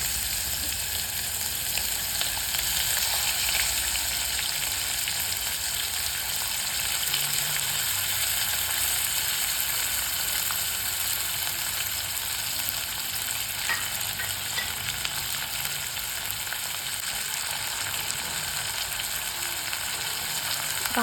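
Chopped vegetables fry in a pan of masale bhat, a spiced rice dish, giving a dense, even sizzle and hiss that holds steady and loud for the whole stretch, with faint stirring underneath.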